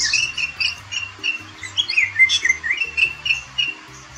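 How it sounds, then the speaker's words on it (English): Greater racket-tailed drongo chirping in a steady run of bright, varied whistles and squawky calls, close and clear, with no voices. "The greater racket-tailed drongo is a bird with a melodious chirp."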